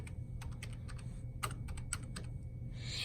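Typing on a computer keyboard, a quick irregular run of light key clicks, close and fairly quiet against a low steady room hum, with no voices.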